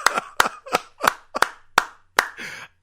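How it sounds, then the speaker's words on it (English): Several sharp hand claps in a steady rhythm, close and crisp, with no talking. "I gotta give you a round of applause, brother."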